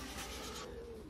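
Racing pigeons cooing close by, a short soft low murmur lasting about a second, faint and alone.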